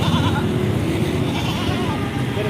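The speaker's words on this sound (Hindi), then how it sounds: "सही देसी बकरी है और दूध वाली को बता रहे हैं" A desi milk goat bleats at the Shahpur Kanjra livestock market in Lahore, heard faintly through steady loud crowd and traffic noise.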